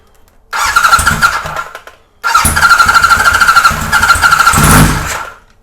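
A 1978 Kawasaki Z1-R motorcycle engine fires and runs for about a second, cuts out, then restarts and runs steadily with a loud, close, rough idle, swelling briefly as the throttle is cracked up before dropping away.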